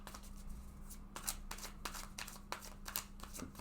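Tarot cards being shuffled and a card drawn: a run of soft riffling flicks and papery slaps close by, with a low steady hum underneath and no talking.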